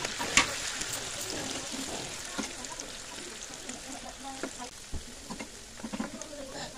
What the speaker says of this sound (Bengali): এবার হচ্ছে আমাদের আলু যে মশলা মাখিয়ে রেখেছিল সেইগুলো দিয়ে দিচ্ছে তেলের মধ্যে